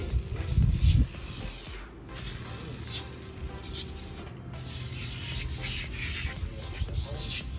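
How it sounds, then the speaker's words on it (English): Aerosol spray hisses onto the wheels of a 2016 Nissan 370Z in long, continuous bursts, with a couple of brief pauses between them. "I make sure I spray all the wheels"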